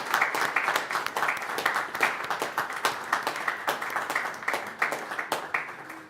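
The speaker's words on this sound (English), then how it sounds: "A round of applause for our wonderful sisters here." An audience applauds at a town board meeting, a close, lively clapping with distinct individual claps that carries on steadily without talk.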